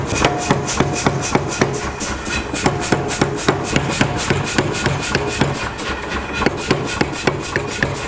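A power hammer pounds steel while forging twist Damascus for a Bowie knife, in a fast, steady rhythm of loud metallic blows, continuing without pause against a dense mechanical background.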